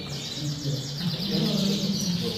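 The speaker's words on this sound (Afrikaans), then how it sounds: "Hier is ook van die jong voëls." Young Gloster canaries chirp and trill at a club show, a bright warbling chorus heard close and moderately loud, with someone talking over the birdsong.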